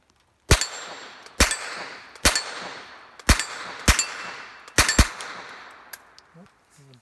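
An AR pistol fires about six sharp, loud shots outdoors, each ringing off with a metallic tail, spaced roughly a second apart, including a quick double near the end.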